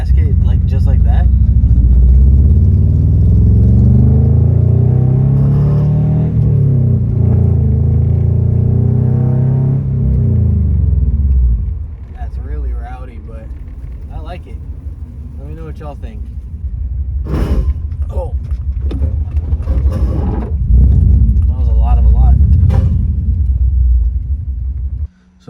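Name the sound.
1997 Subaru Outback engine revving with new exhaust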